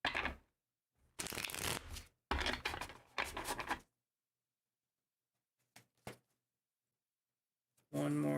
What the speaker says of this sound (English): So we're shuffling the cards again.